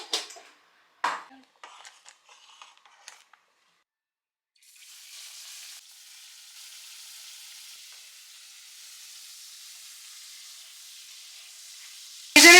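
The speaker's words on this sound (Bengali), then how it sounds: "চিংড়ি মাছ ফ্রাই করতে হবে" Prawns frying in a pan as part of cooking khichuri, first a few clinks and soft kitchen knocks, then a steady hiss of sizzling oil that stays moderately loud, with no talk.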